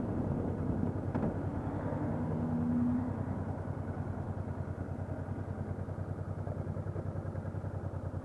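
A Honda NT700V Deauville motorcycle engine runs steadily throughout with a low, even drone and faint mechanical clatter, with no noticeable change in revs.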